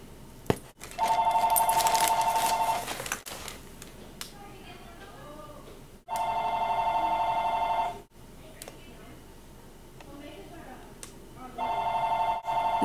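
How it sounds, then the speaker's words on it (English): A landline telephone bell rings in loud bursts, three separate ring periods with pauses between them, over a quiet indoor background. "Is anybody going to answer the phone around here?"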